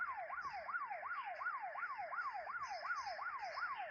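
A police siren in a video game wails in a fast, regular up-and-down sweep, about ten quick cycles in a row, faint and alone with no talk.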